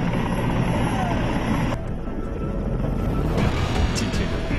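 Two armed helicopters in a military exercise make a loud, steady, unbroken drone of rotor and engine noise throughout, with no voices over it.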